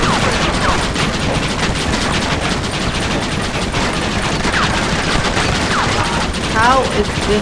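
Sustained volleys of rifle and machine-gun fire rattle across the assault on Fort Mercer in Red Dead Redemption on Xbox, a continuous, rapid barrage at close range, with a voice speaking over parts of it.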